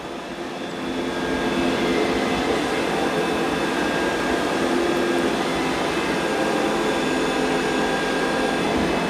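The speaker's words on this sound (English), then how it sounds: "the Roomba's going back over that 30 paw print" An iRobot Roomba J9+ robot vacuum going back over a muddy paw print, giving a steady, loud, close whirring drone that rises in the first second and then holds even with no speech.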